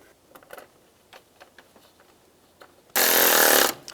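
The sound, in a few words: power tool tightening fan screws on Ford Five Hundred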